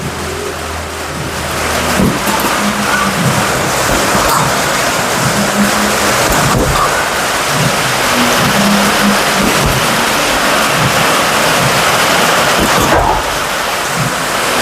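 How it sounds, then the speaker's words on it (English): A heavy tropical downpour hisses loudly and steadily without a break, a dense close roar of rain with faint low rumbles beneath and no voices. "It's damn raining, folks. This is a tropical downpour."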